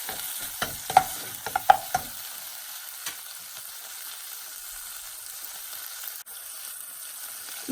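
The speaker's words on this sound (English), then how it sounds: "Then saute it for a minute." Rasam ingredients being sautéed in a pan give a steady sizzle and fry, broken by a few sharp scrapes and knocks of stirring near the start and then settling into a quieter, even hiss.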